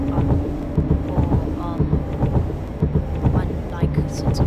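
Heavy rain and rumbling thunder in Microsoft Flight Simulator during a foggy, high-wind A220 flight from Riga to Tallinn, a loud continuous wash of rain with repeated low rolling rumbles and no speech.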